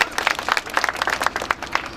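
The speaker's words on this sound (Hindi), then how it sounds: "इसके लिए जोरदार ताली हो जाए।" A short burst of applause from a group at an Ambedkar Jayanti gathering, with quick uneven claps blending into a steady patter.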